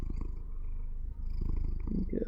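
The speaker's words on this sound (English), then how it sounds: "You gonna purr for the audience?" A cat purrs right up close, a steady low rumbling throb that continues throughout the moment without a break.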